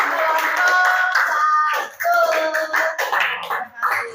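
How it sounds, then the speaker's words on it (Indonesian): Classroom of students clapping hands in a group, a dense burst of applause with children's voices mixed in, briefly dipping before picking up again and continuing close and loud. "tepuk tangan"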